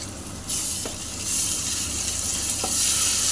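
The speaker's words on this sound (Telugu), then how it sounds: "ఇప్పుడు అల్లం వెల్లుల్లి పేస్ట్ వేసుకోవాలి 2 స్పూన్లు" Two spoons of ginger garlic paste frying in the pan with turmeric ahead of the mutton curry, a close, steady sizzle that swells louder after it is stirred, with a few light utensil taps.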